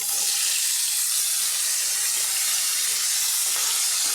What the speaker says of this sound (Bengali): এবার এইগুলো আমি একটু ভালো করে ভেজে নিচ্ছি